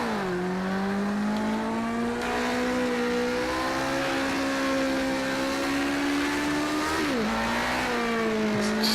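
A historic race car lapping the Spa circuit, its engine droning loud and close with a steady tone that climbs, dips sharply on a gear change, then rises again under hard acceleration.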